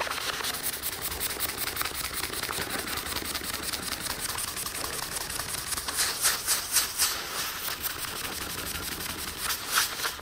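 Continuous, fast scratchy rubbing of very fine-grit wet sandpaper on a Centipede arcade cabinet, a steady back-and-forth rasp that grows slightly stronger and more rhythmic toward the end, with no talking.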